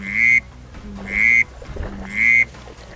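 Three evenly spaced, clear whistled bursts from a duck call mimic a tree frog, each loud and about half a second long, separated by brief quiet gaps.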